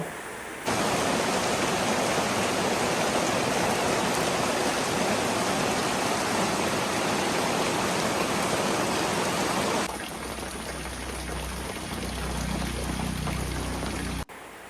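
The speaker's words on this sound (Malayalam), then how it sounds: "അപ്പോൾ നല്ല മഴയാണ് കേട്ടോ പുറത്ത്" Heavy rain falls outside as a dense, continuous wash of hiss, loud and steady, changing in texture partway through and easing only at the very end.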